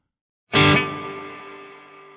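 A single struck guitar chord runs through a reverb effect with the tone knob turned fully left, giving a dull, dark sound that starts sharply and then fades in a long, smooth tail.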